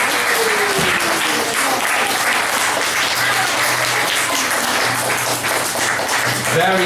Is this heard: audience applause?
yes